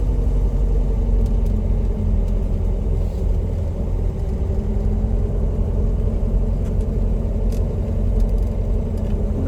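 Small car without power steering being driven, a steady low engine rumble and road noise heard from inside the cabin, constant and moderately loud with no speech.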